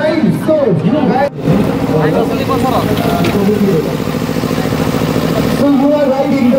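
A Honda CB200X motorcycle arrives at a launch event, its engine rumbling and revving close by over a loud crowd hubbub, with a brief dip in the noise early on.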